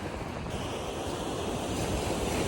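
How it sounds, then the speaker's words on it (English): Ocean surf breaking on a sandy beach along the North Carolina coast, a steady broadband wash of waves roaring close by with some wind buffeting the microphone, no talking. "There it is, the ocean."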